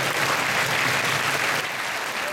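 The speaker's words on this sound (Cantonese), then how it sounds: "大家俾啲掌聲。" Applause at a school Christmas party at TWGHs S. C. Gaw Memorial College: a steady, dense wash of crowd clapping that holds at an even level throughout, with no voices over it.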